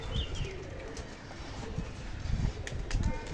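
A racing pigeon kept for a Bengali pigeon-flying tournament, soft throaty cooing close by amid outdoor ambience with faint chirps and light background noise.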